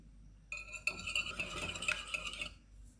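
An egg whisked in a bowl for a crispy chicken drumstick coating, with a quick, steady scraping and tapping rhythm running for about two seconds, close and fairly clear with no talk.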